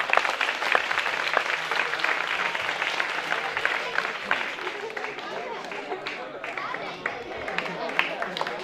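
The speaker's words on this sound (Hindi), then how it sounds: "जोरदार तालियां बजनी चाहिए।" Audience applause at an award ceremony where a prize winner is being honored, a sustained round of dense clapping from a crowd that runs the full stretch, with scattered voices and talk mixed in beneath.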